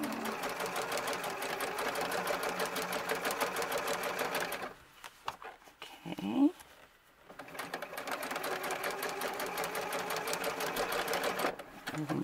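A sewing machine stitches a coat seam for a doll, running in steady rapid bursts that break off for a short pause while the fabric is turned, then start again near and loud.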